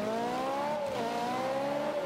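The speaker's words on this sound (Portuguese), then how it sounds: "o som da Ferrari" A Ferrari engine in the racing game Forza Motorsport 5 drones steadily at high revs, its pitch climbing and dipping slightly, loud and continuous with no talk.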